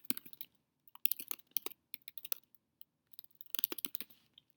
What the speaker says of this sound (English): And then I begin to type a description.